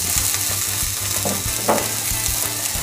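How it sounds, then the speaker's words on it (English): Minced garlic and ginger sizzling in a hot skillet, a dense steady frying hiss with a few stirring scrapes, loud and close with no speech. "right now I got this hot skillet going, and I'm just going to add that minced garlic and ginger"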